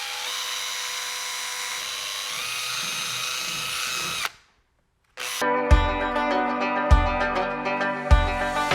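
Power drill boring out plastic-filled holes in a gudgeon fitting, a steady whirring run that cuts off abruptly, then a brief gap and renewed drilling with several sharp bites as the bit catches.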